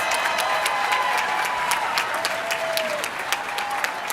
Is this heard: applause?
yes